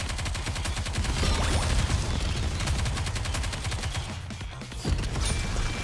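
Sustained automatic gunfire from the mobile shooter Nikke, a loud, dense stream of rapid shots with booming impacts and layered game effects running continuously throughout, with no talking.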